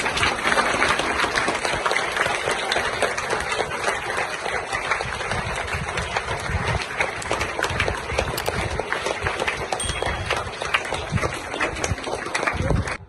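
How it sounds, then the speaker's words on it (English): Students clap for the principal at a school's weekly oath ceremony for new prefects. The applause is loud, dense and continuous for over ten seconds, with a faint engine-like hum running underneath it. "A huge round of applause for our honorable principal sir."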